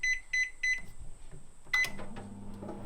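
A microwave oven heating a Woolworths beef ragu lasagne: three short keypad beeps, a pause, then a louder beep as it starts and the steady low hum of the running oven.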